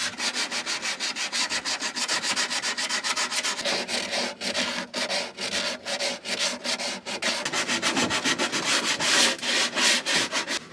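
Steady rhythmic sanding on a sailboat, a dense scratchy rasp with short strokes repeating continuously, close and fairly loud with brief pauses between passes.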